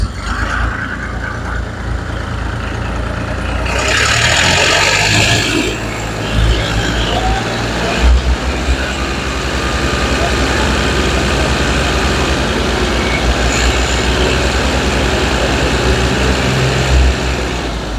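Several tractors, a New Holland 480 leading with two more hitched behind, labour together in a continuous heavy low engine drone, steady and fairly loud throughout with a brief louder surge early on.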